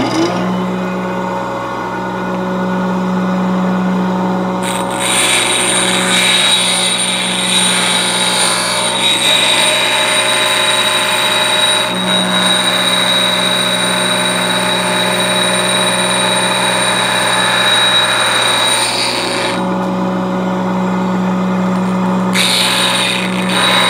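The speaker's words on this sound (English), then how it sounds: "It's going to be a lot of grinding, but it should go a lot quicker with this than it would with a standard grinding wheel." A high-speed steel thread-cutting tool is ground on a CBN wheel, producing a loud, continuous whine with a steady tone and a gritty hiss of contact that rises and eases over the course of the cut.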